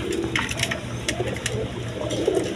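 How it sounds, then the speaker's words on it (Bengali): Gorra pigeons cooing at close range, soft repeated low coos under a light rustle and scattered sharp flutters and clicks. "এটা হলো গররা, এটা হলো গররা কবুতর"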